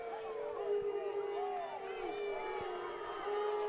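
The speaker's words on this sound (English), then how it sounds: "And the crowd does not like" A high school football playoff crowd at a regional final boos and howls at a referee's personal foul call, a sustained, wavering roar from the stands mixed with a commentator's voice.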